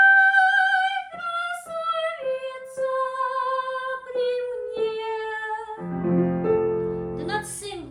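A soprano sings the opening line of a Rachmaninov romance, a clear solo voice with distinct sustained notes and vibrato, phrases separated by short breaths, and piano accompaniment entering near the end.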